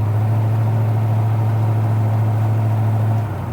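A 1972 Chevrolet Nova with a 3-inch exhaust and Hooker headers idles steadily and loudly up close, a deep, constant low rumble that eases slightly at the end.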